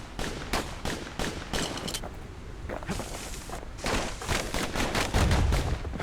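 Twin slinger pistols fire in rapid, repeated bursts in the video game Bastion, a steady stream of sharp shots over game sounds with deeper thumps near the end.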